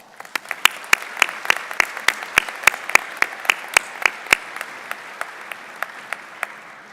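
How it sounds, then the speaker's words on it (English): Scattered applause for the faculty at a spring university commencement, a handful of distinct sharp claps ringing out irregularly, fairly near and thinning toward the end. "Please join me in saluting our faculty with a round of applause"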